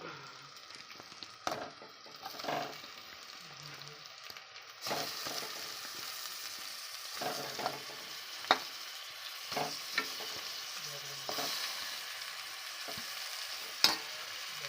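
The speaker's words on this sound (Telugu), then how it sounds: "ఇప్పుడు ఇందులో నేను దీన్ని వేసేస్తాను, తలకాయ కూర." Goat head meat dropped into fried masala in a pan, sizzling steadily with repeated sharp stirring scrapes and clinks, close and moderately loud with no talking.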